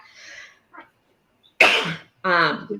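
A couple of short, sharp sneezes burst out close by after some quiet breathy noises, each a loud explosive rush of air.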